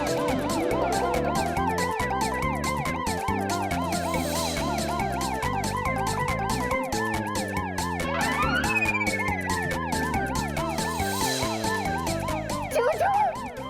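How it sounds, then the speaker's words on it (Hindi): A loud electronic alarm wails continuously in repeating up-and-down siren cycles after glass is broken, blaring steadily throughout with no talking. "अरे शीशा तोड़ा ना तो अलार्म तो बजेगा ही।"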